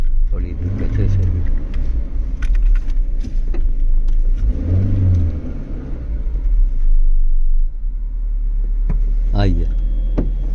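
A car rumbles steadily along a road, engine humming with occasional revving under the cabin, while people inside talk over it.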